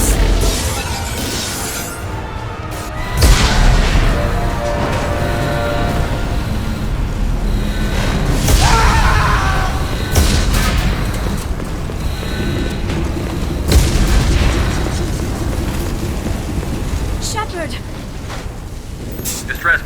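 Heavy booms and crashing impacts roll through a ship under attack in the video game Mass Effect, mixed with rumbling and debris, while urgent voices shout over the din.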